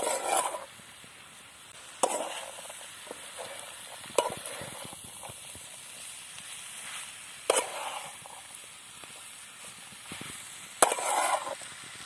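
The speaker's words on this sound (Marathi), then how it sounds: "हे आपल्याला परत बरंच टाईम असंच हलवीत राहायचं आहे तर हे बराच वेळ गरम करून घ्यायचं आहे" Dried cowpea beans are stirred in a hot pan for a dry Marathi-style vegetable dish. A utensil scrapes in short periodic bursts over a faint, steady sizzle, close up, with no voices.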